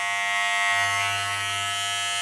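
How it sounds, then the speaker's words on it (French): A corded Wahl Elite Pro electric hair clipper runs close by with a steady, even buzz that hums on without a break. No voice is heard over it. "Donc en termes de nuisance sonore, bon ça va, c'est une tondeuse"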